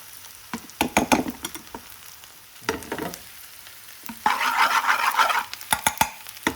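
Onions frying and being stirred in a pan on a gas stove, with scattered scraping stirs and a burst of louder sizzling midway, close and clear with no talking.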